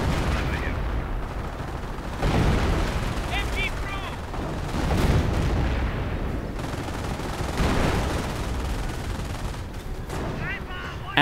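Artillery barrage and gunfire in a WWII strategy video game, rolling booms and rapid machine-gun bursts continuing throughout, loud and dense, with a commentator's voice partly mixed in.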